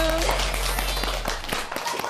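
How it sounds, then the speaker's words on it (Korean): A group of people clap together in a classroom, a short burst of scattered hand claps that rises after a stretch of talking and continues under voices. "박수"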